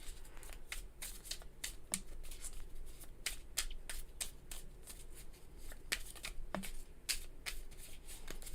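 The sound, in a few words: shuffling tarot cards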